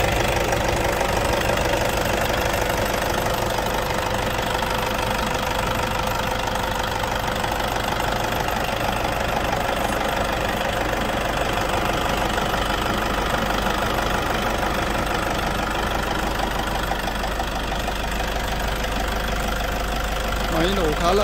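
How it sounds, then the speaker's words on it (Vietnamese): A 2012 Toyota Fortuner with a manual gearbox and diesel engine idles steadily, a continuous low clattering diesel rumble at close range for the whole stretch, with someone talking over it. "Vâng, và đây là tiếng động cơ đang hoạt động đây."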